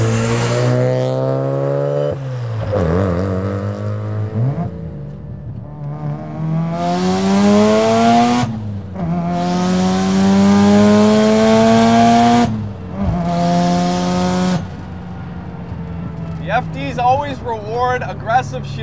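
Single-turbo 400 hp Mazda RX-7 FD track car, lightweight two-seater with a manual gearbox, revving hard through the gears with aggressive upshifts and downshifts, loud and close throughout with brief pauses between pulls.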